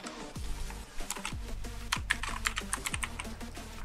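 Keys clatter in a steady run of sharp clicks with a few heavier strokes, as someone types a search on a computer keyboard, close and clear with no talking.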